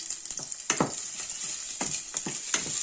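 Chicken sautéing in a pan for Filipino fritada: a constant bright sizzle with several scraping stir strokes at irregular intervals, close and clear, no talking.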